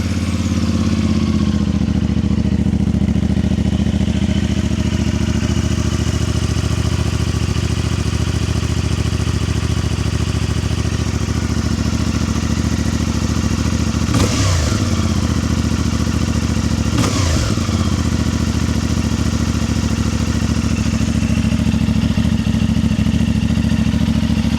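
A 2025 CFMoto 450MT motorcycle idles loud and close with a steady thrumming burble for about twenty-five seconds, broken by two brief rev blips midway.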